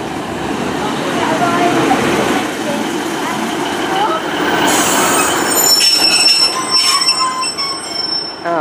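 A Great Western Railway service to Great Malvern rolls through Romsey station, loud and close, with rumbling wheels and sharp high metallic squeals rising as the carriages pass, under a faint voice.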